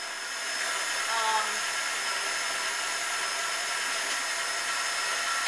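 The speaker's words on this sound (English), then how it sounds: "I'm going to put my mixer in and mix it on low." An electric mixer whisks ingredients on low speed in a bowl, giving a steady high whirring hum close by, with no break in the sound.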